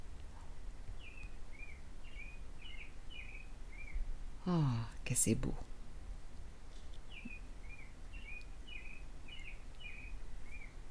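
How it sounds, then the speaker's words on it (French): Small birds chirp and sing outdoors in short repeated phrases at moderate distance, with a brief loud burst and a voice speaking in the middle. "Entendez-vous les petits oiseaux à l'extérieur?"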